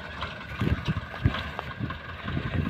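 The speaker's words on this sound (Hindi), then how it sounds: "देखिए अपने खेत की तरफ वो ट्रैक्टर आता हुआ" A farm tractor's engine rumbles and chugs in bursts as it pulls into a harvest field in Ladakh, heard close by with wind buffeting the microphone.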